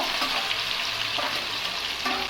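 Boiled goat tripe sizzles in a hot pan for chukka, a dense, even frying hiss with faint stirring scrapes, close and unbroken for a couple of seconds.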